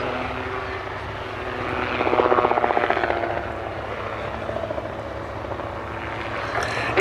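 A Rotorsport UK Calidus autogyro flies at the Duxford Summer Airshow, its steady propeller and rotor drone rising briefly louder around the middle before holding at a constant distant level throughout.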